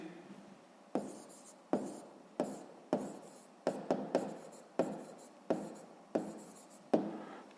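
Pen strokes scratching across paper, a steady series of about a dozen close, quiet marks with short pauses between them, no voices.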